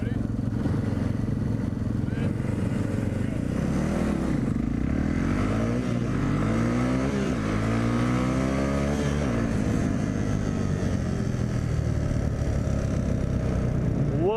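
A dirtbike and a motorcycle accelerate from a standstill in a race, their engines revving and climbing in pitch through the gears, a continuous close roar with overlapping rising tones.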